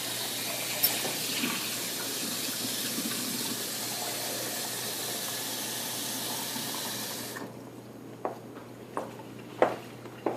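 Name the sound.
tap water filling measuring cup at sink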